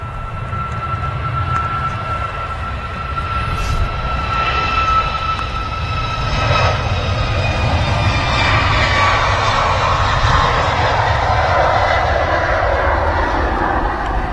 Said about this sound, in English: Another long rotation there from the 2E Max 8 aircraft